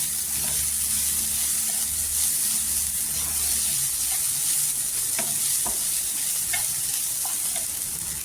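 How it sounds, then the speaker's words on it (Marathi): Cluster bean thecha sautés in oil in a pan over a low flame, giving a constant close sizzle. Scattered scraping taps from stirring cut through it, and no one speaks. "स्लो गॅसवर आहे ना छान असा ठेचा आहे ना तेलावर परतून घ्यायचा"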